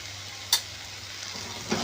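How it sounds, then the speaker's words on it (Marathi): Ground coriander sautéing in a pan, a steady soft sizzle throughout, with a sharp tick of a spoon against the pan partway through and another light knock near the end. "हे छान परतून घेऊया."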